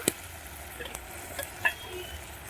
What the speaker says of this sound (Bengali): এবং টমাটোটা দিয়ে দিচ্ছি।